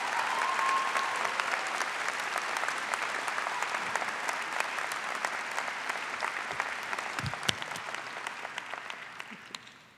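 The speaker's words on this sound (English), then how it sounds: "Please congratulate these students with your applause" Sustained applause fills a university chemistry and biochemistry commencement ceremony, with a dense, steady crowd of clapping hands that holds for several seconds before tapering off at the end.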